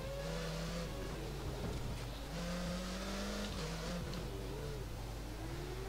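Simulated Formula 1 engine from the racing game F1 2013 screams continuously at high revs, pitch climbing and dipping through gear changes, loud and constant with no speech.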